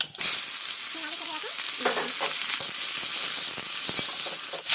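Flat beans, potato, dried red chilli and five-spice hitting hot oil in a wok, a loud bright sizzle that bursts up at the start and holds steady with a few clinks and stirs, close up, no talking.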